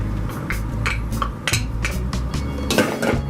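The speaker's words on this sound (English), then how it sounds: "We will put in the fresh chopped tomatoes. We'll put all of those in there." Fresh chopped tomatoes and green onions tipped into a large salsa container, with repeated clattering knocks and clinks of a utensil against the container, close and fairly loud.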